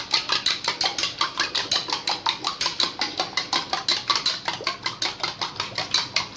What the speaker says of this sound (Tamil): உடச்சி ஊற்றி அடிச்சுட்டு வெங்காயம் போட்டுக்கலாம்.